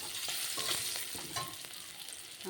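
Ground spices with turmeric fry in a pan, with a steady, close sizzle and soft stirring scrapes throughout.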